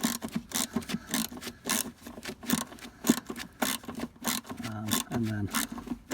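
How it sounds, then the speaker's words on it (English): Rear shock absorber bolts on a Mk4 Ford Mondeo being tightened, giving close, rapid runs of scratchy ratcheting clicks in uneven bursts, with a short voiced sound near the end. "Right, we're just going to get these two tightened up."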